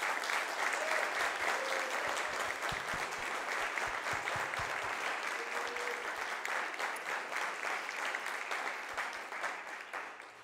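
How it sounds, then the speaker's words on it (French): Sustained audience applause at a Collège Champittet graduation ceremony, dense and steady clapping throughout that fades slightly toward the end. "Je vous en prie de les applaudir très fort."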